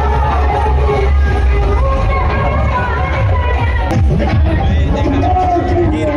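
A big, packed Ram Navami rally crowd in Raiganj makes a constant close hubbub of overlapping voices, with occasional whoops and shouts rising over the babble throughout.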